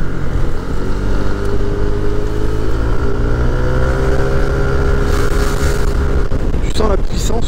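Honda X-ADV scooter engine droning steadily while riding, a loud continuous hum with rising and falling pitch, with people talking over it.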